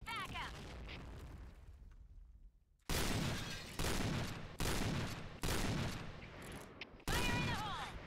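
Point Blank gameplay gunfire: five loud sniper-style shots spaced about a second apart, each followed by a short decay, with someone talking briefly before them.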